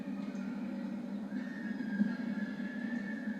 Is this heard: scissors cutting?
no